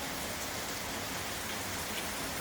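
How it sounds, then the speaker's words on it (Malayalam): Rain falls outside in a continuous, even, soft hiss with a faint patter, unbroken and with no one speaking. "പുറത്ത് ഒരുവിധം കുഴപ്പമില്ലാത്ത മഴ പെയ്യുന്നുണ്ട്."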